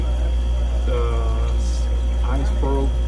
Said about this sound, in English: The water is running to that coil, and it's going to run for probably 10 minutes now.